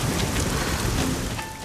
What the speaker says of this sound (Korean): 갑자기 세찬 소나기가 쏟아지기 시작하고